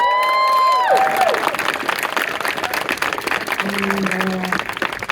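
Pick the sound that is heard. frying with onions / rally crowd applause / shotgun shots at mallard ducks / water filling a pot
rally crowd applause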